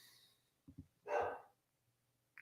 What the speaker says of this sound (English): I don't know why the dog is barking right now.